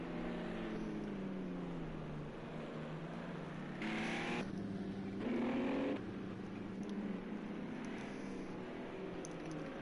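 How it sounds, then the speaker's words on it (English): Club sprint race cars circling the Barcelona National circuit, a steady engine drone from a distance with a couple of louder passes swelling and fading as cars go by. "Fantastic looking these cars coming around the track, and they sound really good as well."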